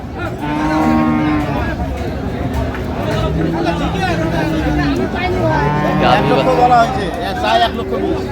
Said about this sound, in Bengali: গাভী বাচ্চা আমি দেখছিলাম এখানে